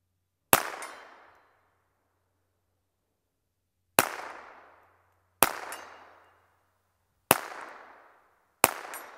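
Five sharp pistol shots from a Hi-Standard Supermatic Trophy fired one-handed at an outdoor range toward a 60-yard target, each a loud crack with a short decaying tail, spaced unevenly over several seconds with quiet between.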